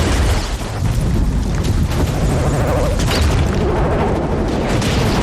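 A loud, dense explosion of a jeep in a war film roars through the whole stretch, a heavy blast rumble with crackling debris that stays intense for several seconds.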